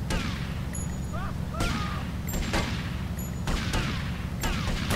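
Repeated gunshots from Grand Theft Auto Vice City, a series of sharp loud cracks at irregular intervals over steady low game rumble and engine noise.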